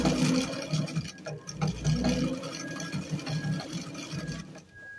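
A vintage Singer Facilita sewing machine stitches with a pattern disc fitted, a close, rapid, rhythmic mechanical clatter with a faint whine running steadily throughout.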